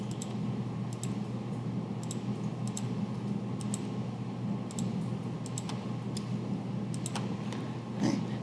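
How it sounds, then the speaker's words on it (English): Keys clack on a computer keyboard as parentheses and numbers are entered for a multi-step equation, a sparse run of light taps spread over several seconds against a faint steady hum, with no talking. "you're going to notice I type my parentheses in just like they are in the problem"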